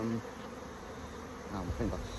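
Honeybees buzz at a hive during an inspection, a steady close drone with a few louder passes near the end, no talk.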